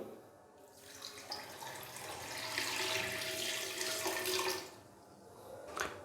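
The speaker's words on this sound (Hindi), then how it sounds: "इसके अलावा मैं इसके अंदर 2 गिलास डालूंगा पानी।" Water from two glasses pours onto pieces of beef in a cooking pot for namkeen pyaz gosht, a steady splashing gush that swells, then tapers into drips, close and fairly quiet.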